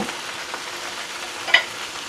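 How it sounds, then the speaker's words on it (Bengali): Leafy greens frying in a pan with dried chillies and five-spice seeds, a steady soft sizzle throughout with one brief clink near the end. "এই শাকগুলো শাকগুলো অ্যাড করে দিয়েছি"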